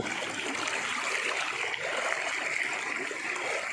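Swift floodwater pours through a breached rice paddy dike, a loud, continuous rushing and gurgling flow close by, with no voices.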